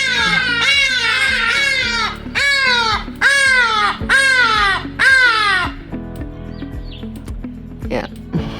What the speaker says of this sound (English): the loudest birds ever